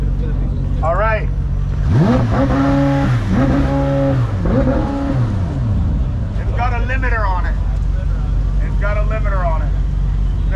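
A supercar engine is revved hard against its rev limiter, loud and close, with several rising, bouncing bursts of engine note followed by quieter blips.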